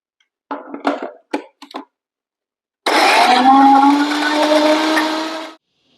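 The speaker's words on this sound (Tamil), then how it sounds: "இதை மிக்சி ஜாரில் சேர்த்து பேஸ்ட் மாதிரி அரைச்சி எடுத்துக்கலாம்" Mixer grinder grinding cooled, sautéed masala into a paste for a Coimbatore-style spicy brinjal tamarind curry. A few short pulses come first, then one loud, steady whirring run of about three seconds that cuts off abruptly.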